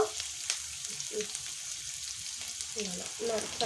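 Turmeric hits hot oil in a pan while making coriander-leaf pickle, giving a continuous soft sizzle with light crackles and occasional stirring scrapes, close and fairly quiet.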